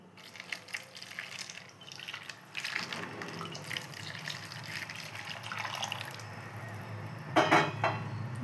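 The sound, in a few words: warm water poured to clean drawing brushes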